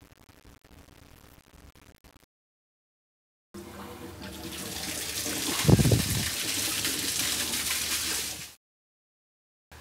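Water draining from a wet sprinkler system alarm check valve, a sudden steady gushing rush that starts mid-clip, holds for several seconds with a brief surge, then cuts off, between quieter stretches.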